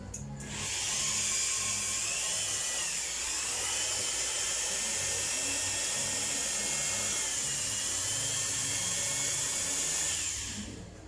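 An electric drill run at low speed as a car paint polisher whines steadily and loudly with a high-pitched motor tone for about ten seconds, its pitch dipping slightly midway before it spins down.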